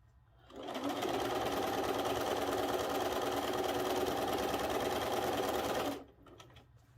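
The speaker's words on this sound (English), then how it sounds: "So start where you're at in the middle and sew off the end" A sewing machine stitches quilt pieces for a trihexa quilt, running as a loud, steady, fast mechanical whir for about five seconds before stopping abruptly.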